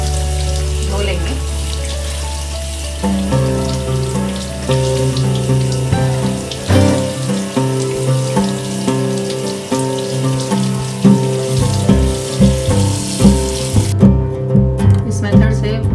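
Salted bitter gourd rinsed under a running kitchen tap, a steady splash and trickle of water with wet handling noises, turning into a rhythmic series of splashes and drips later on, with speech in places.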